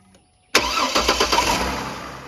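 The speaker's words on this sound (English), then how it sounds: "we'll just let this thing idle for a few minutes, check for leaks, make sure it doesn't get hot" A 2004 Chevy Trailblazer engine cranks and catches abruptly after a quiet moment, a few rhythmic surges as it fires up, then settles into a steady idle close by.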